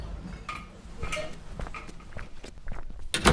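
Footsteps of someone walking home past shops: a run of uneven, moderately close steps with light clicks and scuffs, no talking.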